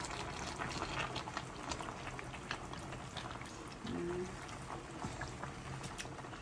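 Pork rib stew with diced tomatoes bubbles in a pot, a steady soft simmer and gentle liquid gurgle running underneath, with a short tonal clink midway.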